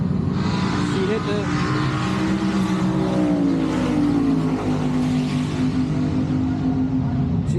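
A drag race car on the track at Mo Kan Dragway, its engine note climbing and then holding flat against the rev limiter, loud and sustained.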